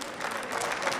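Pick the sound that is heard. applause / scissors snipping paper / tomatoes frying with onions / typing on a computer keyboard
applause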